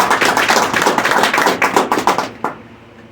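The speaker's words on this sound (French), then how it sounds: "vous demander d'applaudir chaudement M." Audience in a hall applauding warmly for M. Gasnel at an agricultural inauguration, dense sustained clapping from many hands that thins out and fades to near silence at the end, with no talk over it.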